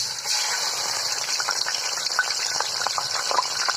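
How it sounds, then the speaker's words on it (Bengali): Ground spice paste for a beef bhuna hits hot oil and fries with a steady, close sizzle, sputtering crackles and pops breaking through a constant hiss. "আমাদের তেলটা গরম হয়ে গেছে আমাদের বেটে থাকা মশলাগুলো দিয়ে দিচ্ছি"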